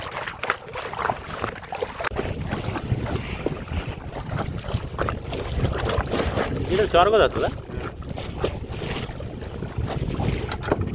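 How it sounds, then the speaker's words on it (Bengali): Strong wind buffeting a small wooden dinghy on the Bidyadhari river in the Sundarbans, gusty rumbling noise with water slapping against the hull, while someone talks over it. "আজকে কিন্তু প্রচণ্ড হাওয়া হচ্ছে বন্ধুরা, দেখুন এপাশে বাড়ি দিচ্ছে নৌকার সাথে।"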